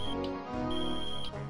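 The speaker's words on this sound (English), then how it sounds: "have you heard that alarm?" A high-pitched electronic alarm beeps in steady, repeated tones with brief gaps between them over a low background hum.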